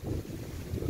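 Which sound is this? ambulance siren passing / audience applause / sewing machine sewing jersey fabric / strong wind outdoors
strong wind outdoors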